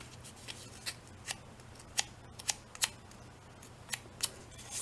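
Scissors snip and scrape along the edge of a sheet of paper in a papercraft stamping project, a series of sharp, close, irregular crisp cuts in a quiet room.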